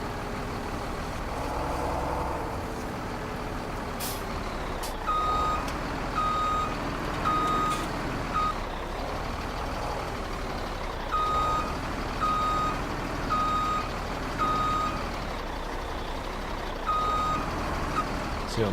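A truck in Farming Simulator 2017 reverses while its engine rumbles steadily. Several sequences of regular, evenly spaced reversing beeps sound over the engine at moderate volume.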